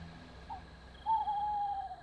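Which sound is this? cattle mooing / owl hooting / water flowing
owl hooting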